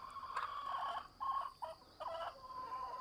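Homestead chickens clucking and calling in short bursts, several separate calls over a quiet background, fairly close but not loud.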